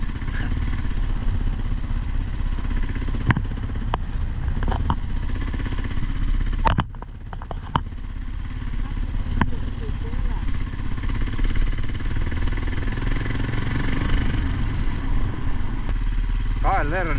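A Kawasaki KLR motorcycle engine runs steadily and close, a continuous low chugging drone with occasional clatter, while someone talks over it.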